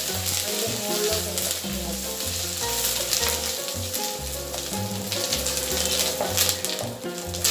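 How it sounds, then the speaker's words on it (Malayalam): Curry leaves and chillies frying in hot oil left over from frying cauliflower, a steady loud sizzle throughout, partly mixed with background music. "നമുക്ക് ആ വറുത്തെടുത്ത എണ്ണയിലോട്ട് ഇത്തിരി കരിവേപ്പില മുളകും കൂടെ വറുത്ത്"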